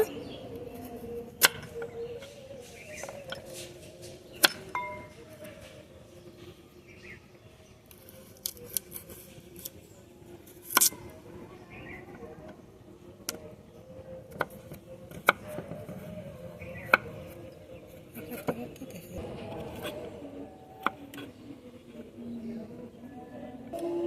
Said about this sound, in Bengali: এখন গাজরটা কেটে নেব